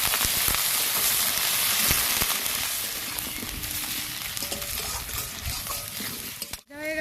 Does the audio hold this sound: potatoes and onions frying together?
yes